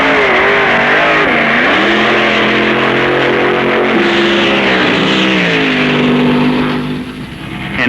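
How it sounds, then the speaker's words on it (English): A 1969 Super Stock drag race pits an overhead-cam Ford Mustang against a blown Hemi Chrysler Trick T, with loud, sustained engine roar and rising, shifting revs across the whole stretch before easing off at the end. "Ohio George Montgomery's Mustang against Ron Ellis's record-holding Trick T from Michigan. Overhead Cam Ford versus blown Hemi Chrysler"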